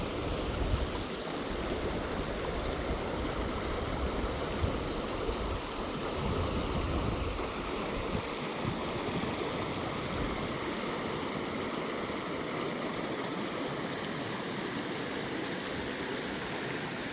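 The Klamath River rushes steadily past, a broad continuous wash of flowing water close by with no voices.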